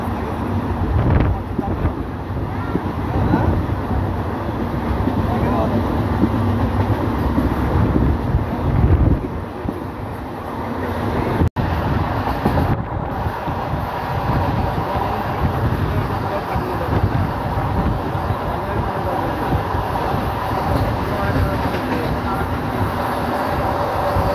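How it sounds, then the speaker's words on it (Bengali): A local train on the Howrah to Tarapith line rumbles along and picks up speed past the Pichkuri slope, a loud, continuous roar with rushing wind against the microphone and brief voices now and then. "ট্রেন পিচকুড়ি ঢাল টপকে গতি নিয়ে চলেছে"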